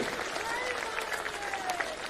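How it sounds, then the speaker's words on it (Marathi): An audience at a birth-anniversary celebration for an educational society applauds in a steady, even wash of clapping that fills the whole moment at moderate distance. "मुलं हात एकदम जोरात टाळ्या वाजवायच्या"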